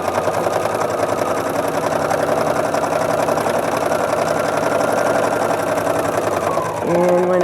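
A sewing machine stitches a fabric placemat with a loud, steady, rapid mechanical whirr that runs almost without a break, then halts near the end, while someone talks over it.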